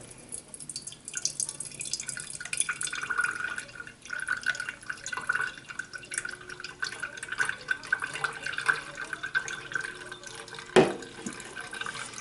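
Blended celery juice trickles and drips through a strainer in a kitchen, a soft continuous patter of small drops, close and fairly quiet.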